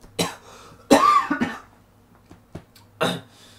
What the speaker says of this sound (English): There's a coughing between that.